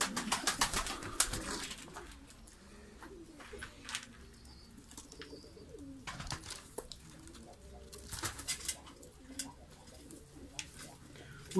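Diyarbakır white pigeons coo softly in low, repeated murmurs from close by, mixed with occasional rustling and wing flutters, while someone talks intermittently.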